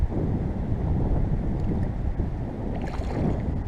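Wind on a lake buffets the microphone of an anchored fishing boat, a steady loud low rushing roar with gusty texture and no pauses.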